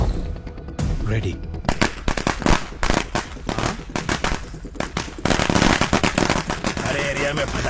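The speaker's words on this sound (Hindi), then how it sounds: "अरे एरिया में पटाखा कौन फोड़ रहे रे?" Firecrackers bursting in a residential area in a dubbed crime thriller film, a loud, rapid string of sharp cracks and pops that runs throughout, with voices and background sound mixed in.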